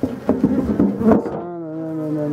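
Bees from a large colony hum around a hive after swarming, a dense droning buzz with a few sharper knocks early on, then a steadier, smoother tone, close and fairly loud.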